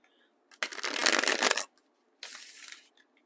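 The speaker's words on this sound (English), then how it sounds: "I'm going to do 3 shuffles" Tarot cards shuffled in two distinct bursts, a loud riffling run of about a second followed after a pause by a shorter, softer riffle, close up with no talking.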